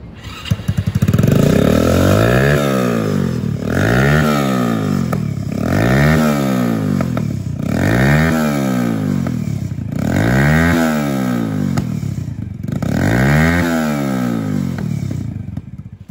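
V110 motorcycle engine revved hard and loud at close range, rising and falling in six repeated surges over a steady idle.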